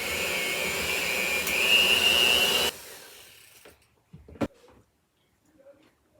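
An electric mixer whirs loudly and steadily through crepe batter with added sugar, then cuts off abruptly, followed by quiet knocks and clinks in the kitchen.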